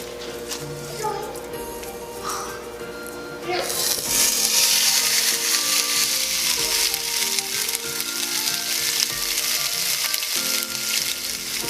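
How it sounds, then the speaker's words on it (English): Red snapper laid into a hot pan of coconut oil, a soft crackle jumping to a loud, continuous sizzle that holds steady, with a voice talking over it early on. "Alright guys, my pan is ready. I'm going to put the fish in."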